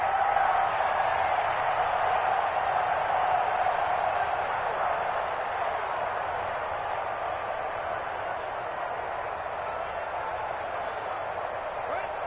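Stadium crowd in a PS4 American football game, a broad steady roar of cheering fans, fairly loud and continuous, with a commentator talking over it.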